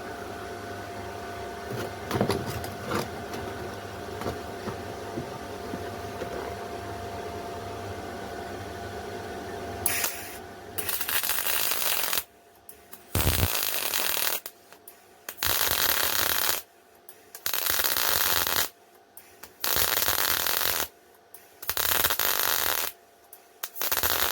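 A Hitbox MT2000 MIG welder welding light steel channel, giving loud crackling bursts of arc noise in several bursts a few seconds long, each separated by short pauses, after a quieter stretch of background noise.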